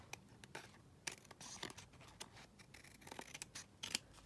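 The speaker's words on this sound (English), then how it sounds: "cut my little tab top bit, oops, and just trim that down" Scissors trim a small paper tab on a glue-book style folio, making quiet, close, irregular snips and paper rustles at a low level.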